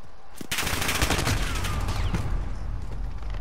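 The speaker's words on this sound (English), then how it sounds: "where are these shots coming from?" Dense bursts of overlapping gunfire in Call of Duty, loud and continuous for a few seconds, rattling automatic shots layered with heavier blasts and no talking.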